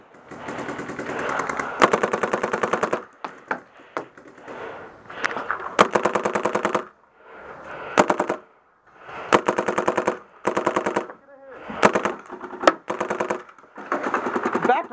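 Repeated close bursts of rapid paintball gun fire at a paintball field, each burst lasting a second or so with short gaps between them across the whole stretch.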